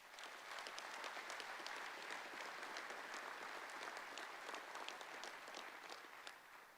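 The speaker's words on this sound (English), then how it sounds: "Let's give them a round of applause." A graduation ceremony crowd applauds the new graduates, sustained dense clapping from many people with crisp individual claps standing out, holding steady before easing off slightly at the end.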